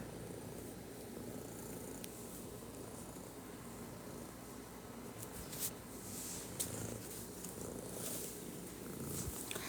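A domestic cat purrs with a steady, soft, low rumble that runs unbroken for about ten seconds. It is faint and close, over quiet room noise, with a few small clicks and rustles.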